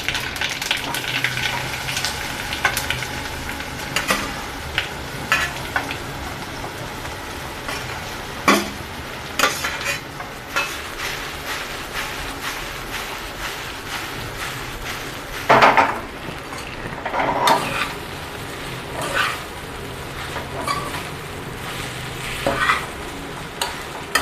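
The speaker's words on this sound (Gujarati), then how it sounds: "હવે આપણે વઘાર કરી લઈશું ઢોકળાનો" Tempering spices, including asafoetida, crackling and sizzling in hot oil for dhokla, up close, with intermittent scraping and clinking of a spoon stirring in the pan.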